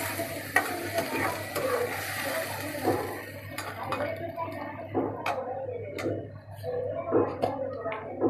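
Onions frying in a pan for khichuri after a splash of water is added, with a steady hiss and sizzle under repeated scraping stirs and small clicks of a spoon against the pan.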